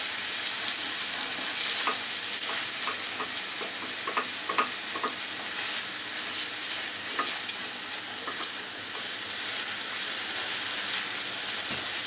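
Hilsa fish frying and being stirred in hot oil with salt, a steady close sizzle running throughout with scattered utensil scrapes and clicks, no talking.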